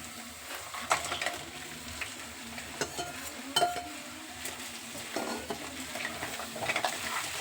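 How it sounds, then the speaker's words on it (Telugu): Fried crabs tip into a pan of frying onions, giving a low sizzle with scattered stirring scrapes and light metallic clinks, quiet and close, with no talk. "పీతలు ఫ్రై చేసి పక్కన పెట్టినా కదా పీతలు అయితే వేసేస్తున్నాం"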